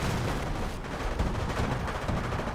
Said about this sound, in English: M2's barrage in this general region